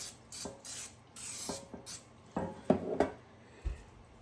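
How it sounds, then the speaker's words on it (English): Cooking spray hisses into a loaf pan in several short bursts, close by. A few light clinks and taps from the pan follow near the end. "Generously spray the pan."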